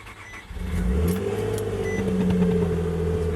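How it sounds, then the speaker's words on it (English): A Nissan Altima SE-R, long left sitting, cranks and fires, then settles into a steady close idle with a brief rev. "I'm gonna go ahead and start it up, let it warm up a little bit, check for leaks"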